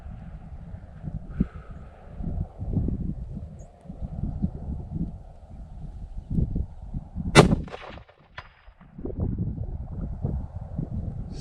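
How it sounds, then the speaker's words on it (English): A single sharp, loud shot from a Bergara B-14 HMR rifle chambered in 300 PRC, fired outdoors at a range and followed by a short echo, with wind rumble and low muffled noise before and after. "Same exact spot, felt the shot break."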